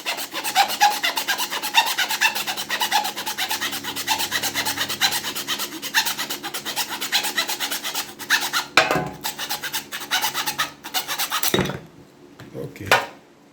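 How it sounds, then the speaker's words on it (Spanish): A 54-centimetre piece of wood is sawn in half, with steady, close rasping strokes in a fast, even rhythm that break into a few slower, separate strokes before the cut finishes. "Voy a tomar ahora el pedazo de madera que tengo acá y lo voy a cortar por mitad."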